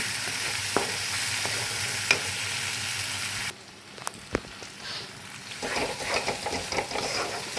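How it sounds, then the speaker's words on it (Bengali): Vegetables and paneer sautéed lightly in a pan, a steady broadband sizzle with occasional stirring clinks and scrapes; the frying noise drops briefly midway, then resumes with more active stirring. "এবার এটা আমি হালকা হাতে সটে করব।"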